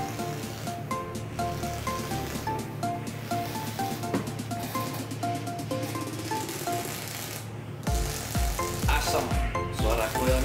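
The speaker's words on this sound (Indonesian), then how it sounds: "bisa dilihat ini cocok banget kalau kalian mau pakai di coil yang meletek-meletek karena dia suaranya bakal gahar banget" Vape coil burning on a Tetra Crack'erz setup, a dense, continuous crackle and sizzle with fine popping textures, fairly quiet and close, with no speech.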